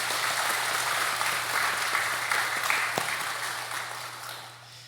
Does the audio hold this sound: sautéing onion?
no